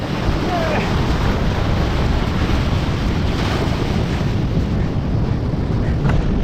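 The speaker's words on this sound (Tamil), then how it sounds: "தண்ணியோட சத்தம் கேட்குதா உங்களுக்கு?" Loud, continuous roar of sea waves and rushing water, steady broadband surge with wind buffeting the microphone throughout and no speech.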